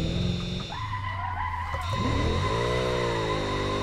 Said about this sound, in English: A little bit of a lockup of the brakes